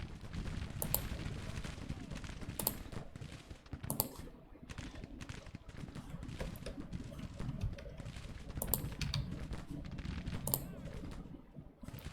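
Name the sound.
musket gunfire from a Civil War video game battle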